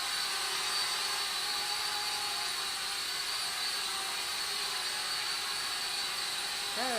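A small Eachine E56 folding selfie drone hovers nearby with a thin, steady high-pitched whine of its propellers, holding constant throughout with no voices.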